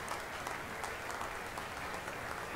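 Applause at a state-of-the-state address by Governor Fallin, a dense, even clapping from a large audience holding steady throughout with no break, heard at moderate distance.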